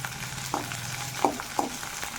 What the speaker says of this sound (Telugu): పచ్చిమిర్చి కొంచెం ఫ్రై అవనివ్వాలండి జస్ట్ ఒక రెండు ఎండుమిరపకాయలు